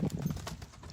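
Hooves of farm horses clip-clop close by as the animals come running, several quick thudding strikes in an uneven rhythm, loud and clear with no talking.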